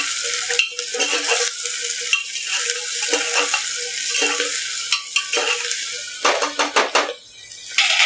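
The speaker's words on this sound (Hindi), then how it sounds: "अदरक और लहसुन। इसे पिंक होने तक भून लेंगे हम।" Onion, ginger and garlic fry in a pan, a steady close sizzle throughout, with a spoon stirring and scraping against the metal at intervals and a few clinks near the end.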